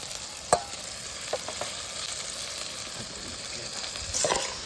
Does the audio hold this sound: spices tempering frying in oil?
yes